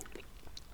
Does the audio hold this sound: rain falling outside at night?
no